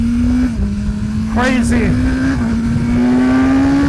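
A 2025 BMW S1000R naked superbike's inline-four engine revs hard at high rpm, its steady high-pitched drone running continuously and loud throughout, with a brief spoken exclamation over it.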